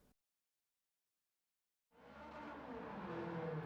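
Ferrari GTO '84 drifting around Suzuka in Gran Turismo 7 with a medium turbo and anti-lag switched off: after near silence the engine roars in abruptly, sustained and loud with tire squeal through the final half.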